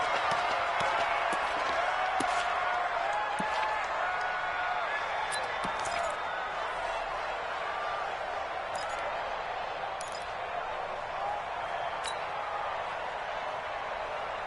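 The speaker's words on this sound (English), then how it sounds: "Listen to this crowd now" A large crowd roars continuously in a big video game football stadium during a two-point conversion, with scattered claps and thuds, and a voice speaking over the noise.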